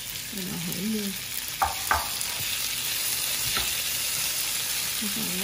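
Food fries in oil in a pan over high heat, a steady loud sizzling hiss with a couple of sharp utensil clinks, while a voice speaks briefly at the start and end.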